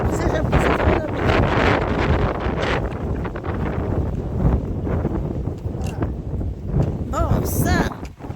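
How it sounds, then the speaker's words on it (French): Strong wind gust buffeting the microphone on a sandy spot in violent 70 to 90 km/h wind, a loud continuous roar with rushing, gusty surges throughout and brief voice-like exclamations near the end. "ça va avoir un gros coup de vent fort!"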